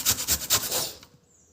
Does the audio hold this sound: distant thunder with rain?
no